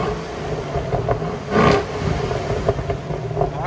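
A 2015 Chevy SS with its 6.2L V8 on the stock exhaust sits in a shop, idling loud and steady, then revs in one strong swell mid-clip with a few smaller blips after.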